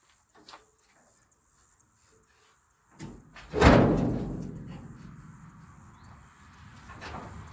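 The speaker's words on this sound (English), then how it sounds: "Alrighty, we're gonna get this hood open." The hood of a 1965 Ford pickup with a 352 big block is popped open. A few faint clicks come first, then one loud metallic thump whose ring slowly dies away, with no talk.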